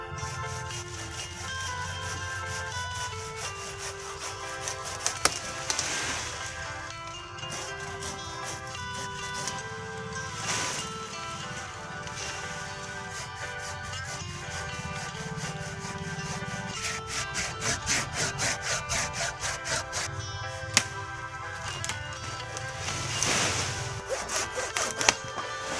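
A hand saw rasps back and forth through an avocado branch in repeated strokes, under steady background music.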